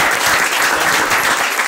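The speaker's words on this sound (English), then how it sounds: "Let's everybody give Kyle a round of applause." An audience at a startup speaker event in Monterey Bay giving a round of applause for the guest speaker, a dense, steady wash of many hands clapping, loud and continuous throughout.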